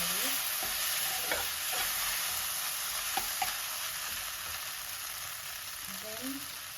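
Boiled noodles fried in oil in a pan, a steady close sizzle with a few scraping stir strokes, no voices.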